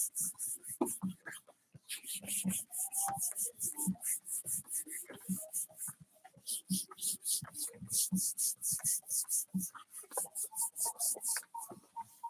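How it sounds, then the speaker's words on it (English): Hands rubbing glued paper down onto a cardboard model hallway, a steady run of close, dry scratchy strokes repeating in quick rhythm, with a little soft talk in the background. "just rub it real good on all the spots where you put the glue"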